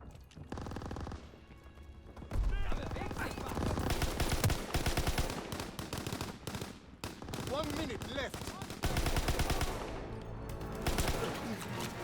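Machine gun fire rattles in Call of Duty: WWII multiplayer, loud sustained bursts of rapid gunshots overlapping with explosions and other gunfire for most of the stretch, with a brief quieter lull near the start.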